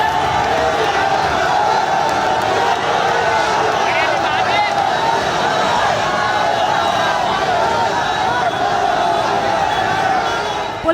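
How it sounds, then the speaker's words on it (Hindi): A dense protest crowd chants slogans from mosque rooftops, a loud, continuous roar of massed voices that never lets up, with a speaking voice running over it. "मस्जिद की छतों पर चढ़कर भीड़ नारेबाजी कर रही है"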